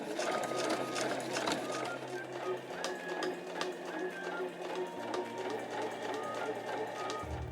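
A sewing machine runs steadily while back-stitching a slim handmade pouch, its rapid mechanical whir and ticking needle strokes continuous and close, with brief shifts in pitch as speed changes.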